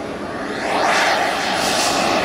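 Jet turbine engine on a radio-controlled truck running outdoors, a loud, close, continuous roaring whine that swells and shifts in pitch as the truck moves past.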